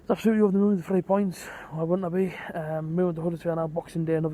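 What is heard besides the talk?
None of the usual background noises is heard.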